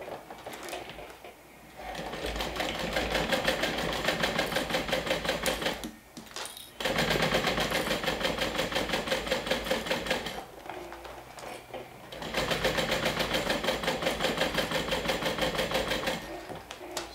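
A sewing machine stitches a bag in three long runs of rapid, even needle clatter separated by brief pauses, close and moderately loud, with no talk.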